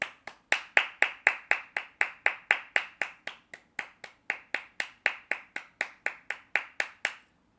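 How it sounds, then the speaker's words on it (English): A single person claps steadily and rapidly, about thirty crisp hand claps in an even rhythm, close and fairly loud with no talk. "full audio round of applause for Mauricio Pochettino"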